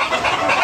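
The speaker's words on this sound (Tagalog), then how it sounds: "Napakalaking inahin yan" A large hen clucks loudly and close, one continuous raspy vocal burst filling under a second, with no talking.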